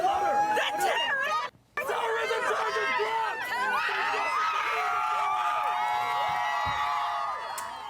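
A crowd outside Luigi Mangione's court hearing cheers and shouts, many voices overlapping in loud, continuous hubbub with whoops and calls, briefly cut off for a moment before resuming.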